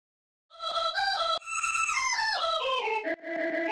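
Processed vocal sample treated with distortion, reverb and EQ for an electronic track, a bright, gliding tone with shifting pitch that runs continuously at steady loudness with two brief dips, no speech.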